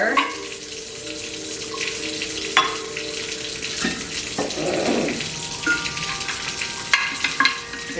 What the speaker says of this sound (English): the water is running because I needed to warm up so that I can get hot water